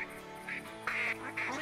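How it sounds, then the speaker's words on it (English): A large flock of ducks quacks in the hunting video game theHunter Classic, bursts of calls overlapping in irregular bunches over a steady background. "That's probably like the second or third biggest flock of ducks I've ever seen right there."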